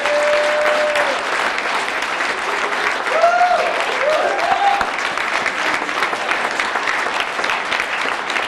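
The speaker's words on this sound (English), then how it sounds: "So let's give them a round of applause." A room of audience members applauds an MBA cohort at an evening event, a steady dense wash of clapping lasting throughout, with faint tonal sounds and brief whoops mixed in.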